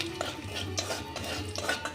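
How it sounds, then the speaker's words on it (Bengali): Cardamom, clove, cinnamon and cumin sizzle as they temper in hot ghee, with a metal spoon scraping and clinking against the pan throughout, close and steady with no talking. "ঘি দিয়ে দেব একটা ফোড়ন, এলাচটা একটু থেতো করে নিয়েছি, লবঙ্গ, দারচিনি আর সাদা জিরে।"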